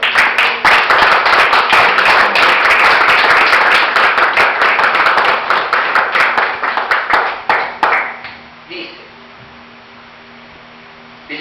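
A church congregation applauds together during a Spanish-language sermon, a loud, dense wash of clapping that holds for about eight seconds before fading quickly to quiet room tone.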